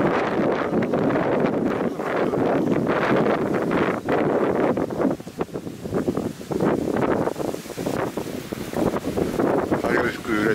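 Strong wind buffets the microphone in a farm field two days after Typhoon No. 14, roaring in loud, uneven gusts with a short lull partway through; occasional rustling is also heard.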